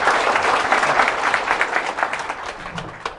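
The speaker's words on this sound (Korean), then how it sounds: "박수, 박수." An audience at a Saturday lecture hall applauds with a dense, steady patter of many hands that fades slightly toward the end.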